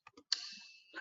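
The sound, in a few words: clicking the keyboard down arrow key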